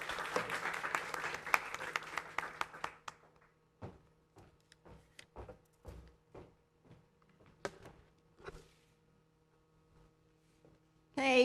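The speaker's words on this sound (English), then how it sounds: "Please give her a big round of applause." Applause from an audience at a university GMBA graduation ceremony, a dense burst of many hands clapping for about three seconds, then thinning into scattered single claps that fade out before a sudden loud sound at the end.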